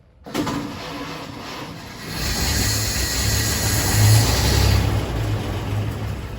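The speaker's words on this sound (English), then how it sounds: "When you're starting these old cars, you want a little bit of hand throttle to get it going" A 1931 Franklin 153 Deluxe Coupe engine cranks and catches with the choke out and a little hand throttle, then runs with a steady low rumble that swells and surges partway through, close by.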